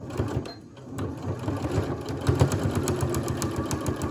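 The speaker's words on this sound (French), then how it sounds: "je commence à le poser sur la poche pour pouvoir commencer à coudre les poches sur le devant" A sewing machine stitches bias binding onto the pocket of a quilted jacket, running in a rapid, even mechanical whir with slight rhythmic variations, close and clear throughout.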